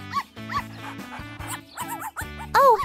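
A cartoon puppy stuck in a trash can whimpers in a string of short, high, wavering whines and yelps, close and clear, with no talking over them.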